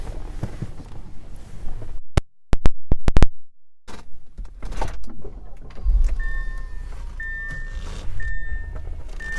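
Power moonroof of a 2013 Audi A6 running inside the car, a steady electric motor whine with a few clicks and thumps as the panel moves, heard close with no talk.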